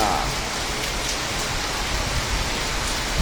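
Heavy rain falling, heard from a balcony, a loud, continuous downpour hiss with dense drops striking surfaces nearby, steady throughout with no talk.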